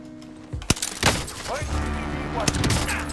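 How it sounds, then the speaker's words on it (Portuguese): A few sharp sniper rifle shots crack out in a game, scattered irregularly over a low background hum, with quieter sounds in between. "um tiro"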